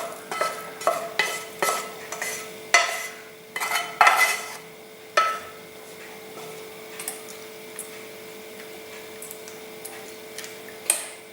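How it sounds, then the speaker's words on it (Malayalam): Beaten eggs being stirred together with sautéed vegetables and mushrooms, a spoon clicking and scraping against the bowl in a string of quick, irregular strokes up close, easing into softer, sparser taps with no talking. "ഇനി ഇതിലേക്ക് വഴറ്റി വെച്ച വെജിറ്റബിൾസും മഷ്റൂമും കൂടി ചേർത്ത് ഇളക്കാം"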